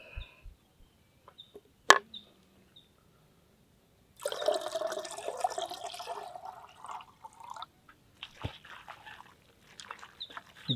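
Water pours out of a tender coconut in an outdoor kitchen, a faint intermittent trickling and splashing after a sharp knock, with a dog and a rooster faintly in the background.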